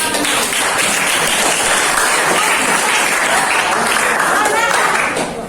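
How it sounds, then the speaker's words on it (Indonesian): Sustained audience applause fills the room at a classroom teacher-training session, a dense, steady wash of many hands clapping at close range for several seconds. "kasih aplaus dulu"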